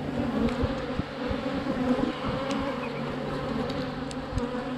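Honeybees hum steadily in a dense, constant buzz around an open beehive, close by and continuous, with faint individual bees passing.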